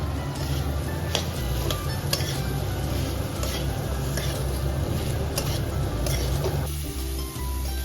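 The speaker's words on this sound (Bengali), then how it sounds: "মশলাটা ভাজা হয়ে গেছে, এবার সেদ্ধ করা চানা মশলাটা ঢেলে দেব।" Boiled chickpeas are poured into a pan of fried spice masala while cooking chana paneer masala. A steady sizzle is heard with stirring and light scrapes against the pan, close and continuous.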